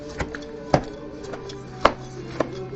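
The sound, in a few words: crumbling cornbread with a large spoon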